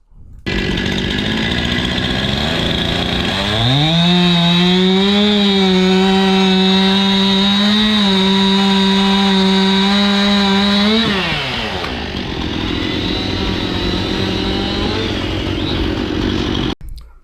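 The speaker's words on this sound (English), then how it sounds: "Doug here is taking the chainsaw and cutting them into 16-inch long blocks" A chainsaw cutting wooden cants into 16-inch blocks for an old shingle mill, the engine revving up and holding a loud steady whine through the cut for several seconds before dropping back to idle.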